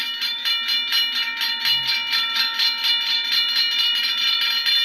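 Safetran mechanical and hybrid railroad crossing bells in a train video game ring steadily and rapidly, a continuous loud metallic clanging that fills the whole stretch without pause.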